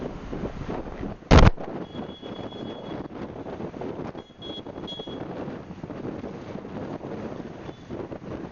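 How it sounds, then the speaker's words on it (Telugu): Strong cyclone winds gusting along the Visakhapatnam seashore with rough surf, a steady roar of wind buffeting the microphone and a brief loud thump early on, no voices. "ప్రస్తుతం ఈదురుగాలులతో అలల తాకిడితో ఉధృతంగా ఉన్న తుఫాను ప్రభావం"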